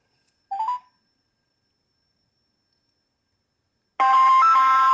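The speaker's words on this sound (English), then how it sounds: "So let's make a quick phone call real quick." A short electronic tone blip, a long stretch of silence, then a loud, sustained ringback-style phone tone starts abruptly, played through a Willnorn SoundPlus Bluetooth speaker.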